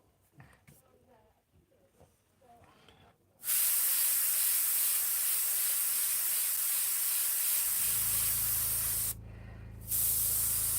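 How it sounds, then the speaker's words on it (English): An airbrush sprays green paint in a steady, loud hiss that starts abruptly after some quiet handling sounds and soft talk, briefly cuts out, then resumes. "Add some of the green in there. Check your airbrush."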